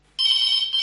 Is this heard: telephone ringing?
yes